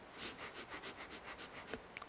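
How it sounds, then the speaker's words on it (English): Quick rhythmic sniffing breaths of a short Vastrika breathing exercise, about a dozen short nasal inhales in steady succession, close and soft, followed by a couple of faint clicks. "It's like sniffing"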